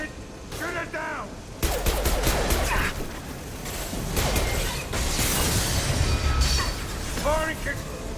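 Rapid gunfire from a Mass Effect 2 firefight, bursts of shots blasting something out of the air, loud and continuous over game effects, with a voice talking at the start and end.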